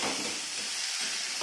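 Chili, capsicum and tomato frying in a pan for masala noodles, a steady bright sizzle and hiss, close and continuous with no talk.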